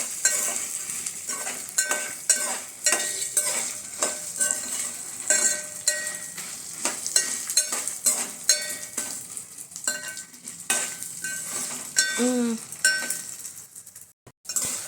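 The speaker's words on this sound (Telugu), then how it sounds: "ఇప్పుడు ఎండుమిర్చి, మనకు కారం ఎంత కావాలనుకుంటే అంత వేసుకోవచ్చు. నేను ఒక 20 దాకా వేసానండి. ఇవి బాగా ఫ్రై కావాలి." Around twenty dried red chillies fry in a pan for curry leaf powder, a steady sizzle broken by frequent clinks and scrapes of a metal spatula stirring them, close and continuous.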